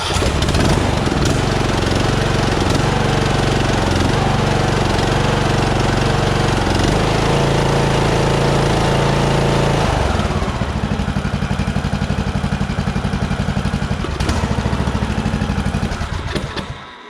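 A John Deere D-110 lawn tractor engine roars loudly and close from the start, running steadily with a dense clattering rumble that changes pitch partway through, then cuts out at the end. No one speaks.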